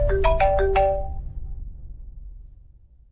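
A phone ringtone plays a short bright melody of a few quick chiming notes that fade into a quiet, rumbling background, with no one speaking.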